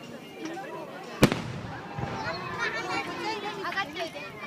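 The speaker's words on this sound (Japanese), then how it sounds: "花火を見る。" Fireworks at a display in Ichikikushikino, Japan: one sharp boom rings out early, then soft crackling follows under steady crowd chatter and nearby voices.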